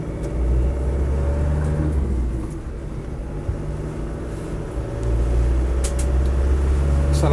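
A Land Rover Defender 90 300Tdi diesel engine rumbles steadily, dips briefly, then builds again as it accelerates, heard from inside the vehicle with a constant low drone.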